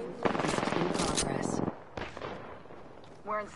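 Rapid automatic gunfire in Apex Legends rattles close and loud for over a second, followed by scattered shots and a short voice near the end.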